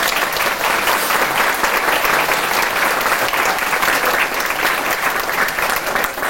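Audience applause during a mayor's New Year speech, loud sustained clapping from a packed hall that stays steady and dense for several seconds.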